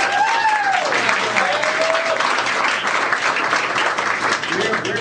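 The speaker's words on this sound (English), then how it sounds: "give yourselves a round of applause" A large crowd at a bill-signing event for a restaurant smoking ban applauds steadily and loudly throughout, with dense sustained clapping and a few whoops and cheers rising over it.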